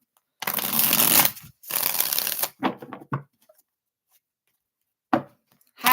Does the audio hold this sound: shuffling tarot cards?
yes